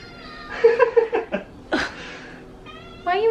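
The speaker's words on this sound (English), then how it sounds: "Oh my gosh, stop meowing!" A cat meows several times close by indoors, with drawn-out, whiny cries at the start and a final one near the end, and a voice between them.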